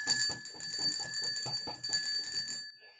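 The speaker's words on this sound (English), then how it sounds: "Ring the bell." A bell rings with a sustained bright metallic tone that overlaps a rhythmic series of low thumps, close and fairly loud, then cuts off near the end.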